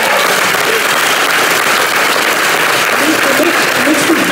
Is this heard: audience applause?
yes